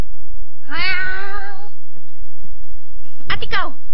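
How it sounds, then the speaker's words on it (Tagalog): A house cat gives a long, wavering meow up close, followed by a second shorter, sharper meow a moment later, with quiet room noise between. "Pati ang pusang yan, pinapasok mo dito sa kwarto ko na walang pahintulot."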